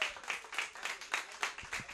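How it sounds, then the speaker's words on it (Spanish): An audience at a live tropical music TV program claps in a fast, steady rhythm, the applause close and fairly soft across the short stretch. "¡Fuerte el aplauso!"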